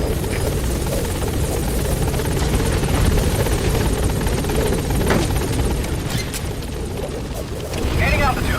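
Helicopter Pequod from Metal Gear Solid V coming in to a landing zone, a steady loud rotor roar and turbine whine holding throughout with a heavy low rumble, swelling slightly near the end.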